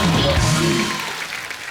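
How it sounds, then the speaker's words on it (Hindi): A studio audience on a TV comedy show applauds loudly, a dense wash of clapping with some voice-like tones underneath that gradually tapers off. "जोरदार तालियां बनती हैं सुदेश जी के"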